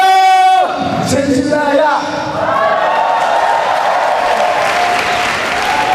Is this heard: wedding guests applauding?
yes